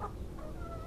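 Chickens on an egg farm cluck in a short burst, a steady low farmyard murmur with a few nearer hen calls standing out, no talking.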